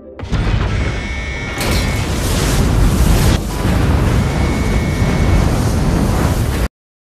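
A loud, sustained rumbling roar with crackling debris noise, like an explosion's aftermath, continuing for several seconds before cutting off abruptly.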